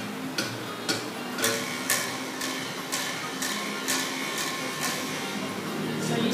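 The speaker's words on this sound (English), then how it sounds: "So you see that the instrument creates a buzzing sound." Bamboo buzzer, a bungkaka, struck with the hand, giving about ten evenly spaced sharp buzzing strikes over a steady background, close and moderately loud, with no talking.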